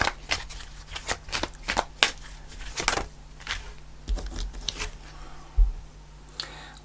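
Sacred Power reading cards shuffled by hand, a run of crisp riffling slaps and flutters, close and clear with no talk over them.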